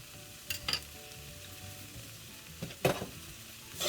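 Butter sizzles in a hot pan beside pork chops, a soft steady frying hiss broken by a few brief louder scrapes and clinks of a utensil.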